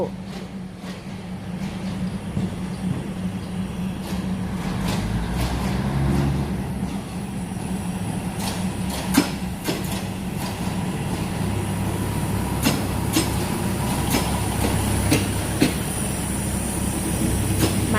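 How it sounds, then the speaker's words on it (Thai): A four-car diesel railcar train arrives at a station, with a steady low engine rumble, rolling wheel noise and occasional clicks and clanks building gradually, without talking. "เป็นรถดีเซลรางนะคะ มีสี่ตู้ มา"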